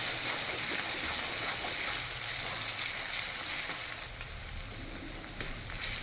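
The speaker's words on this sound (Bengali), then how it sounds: "আদা রসুনের পেস্ট যাতে তলায় না লেগে যায় বারবার করে কিন্তু নাড়তে হবে।" Onion, ginger and garlic paste frying in a pan for chicken masala, a steady close sizzle that runs throughout, with scraping stirs and a softer patch toward the end.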